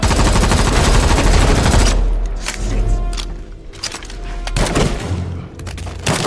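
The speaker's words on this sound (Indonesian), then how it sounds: "Setelah tembak-tembakan yang panjang" Bursts of gunfire crack and rattle in a shootout, dense at first then scattered single shots, loud and close.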